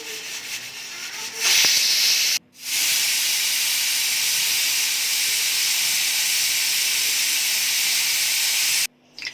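A pressure cooker of khichuri sits on a gas stove and vents steam in a loud, continuous hiss. The hiss cuts out briefly twice, once near the start and once near the end.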